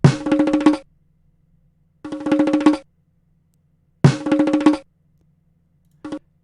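A long African drum sample played in music software, heard as repeated separate bursts of rapid hand-drum strokes about every two seconds, each lasting under a second, with the last one cut short, loud and close with no voices.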